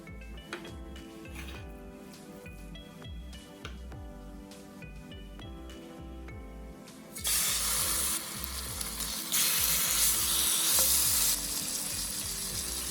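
Salmon pan-sears in a tablespoon of olive oil over medium heat, a loud, close sizzle that jumps sharply in intensity partway through and stays steady after, with some clinking at the start and no talking.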